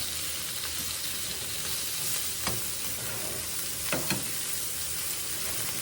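Cabbage and sausage sizzle and fry steadily in a pan while a utensil stirs through them, with a few sharper scrapes and knocks standing out against the constant crackle. No one speaks.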